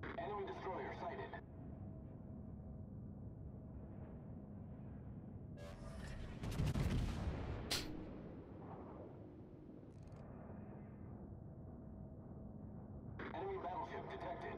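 Naval guns boom in a warship video game, a heavy rumbling blast swelling in the middle of the stretch, faint and low in level, with a voice talking around it.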